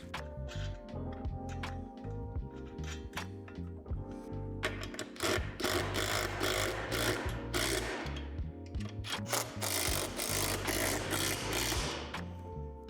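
Nuts are tightened by hand tool to secure a basketball rim onto the front of a Lifetime portable backboard, giving repeated close metallic ratcheting clicks and rattles in irregular bursts.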